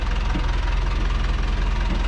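A wooden boat's inboard engine running steadily in its engine bay while cruising underway, a loud, close, continuous low drone with a rhythmic knocking throb and no talk.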